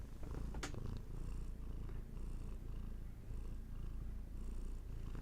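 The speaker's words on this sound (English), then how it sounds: "Lots of good purrs." A cat named Hattie purrs close and steady in a soft, rhythmic rumble, with a brief sharp noise near the start.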